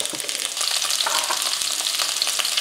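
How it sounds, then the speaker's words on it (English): Potatoes frying in a big pan while being stirred, with a bright continuous sizzle and crackle close up and scraping bursts from the stirring. "Continue to stir the potatoes so they can get a little brown on them."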